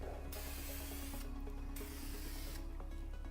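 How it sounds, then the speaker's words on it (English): Bursts of aerosol spray paint hissing onto a Sabine Wren helmet, several short sprays separated by brief pauses, close and fairly quiet with no talking. "If you are spraying and you stop and change directions, you're going to get a lot more paint in that one spot."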